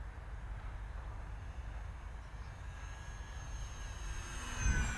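A Top RC Lightning 1500 model plane on its maiden flight drones by at a distance with a faint, thin whine over wind rumble, rising slightly toward the end.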